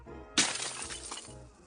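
A single sharp crash of a clay object shattering, followed by a short scatter of fragments settling, heard up close with no talking.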